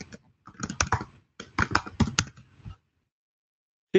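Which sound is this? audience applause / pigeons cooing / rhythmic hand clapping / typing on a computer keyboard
typing on a computer keyboard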